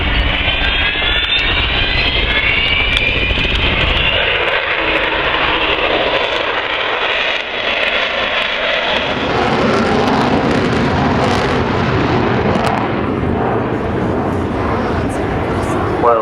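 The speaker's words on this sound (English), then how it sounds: "You heard the Vulcan howl twice in one show. It is an extraordinary and unique sound." Avro Vulcan bomber at the Farnborough Airshow, four jet engines each rated at 14,400 pounds of thrust, a loud sustained roar with a rising whistling howl, then a broad rumbling pass. An announcer talks over parts of it.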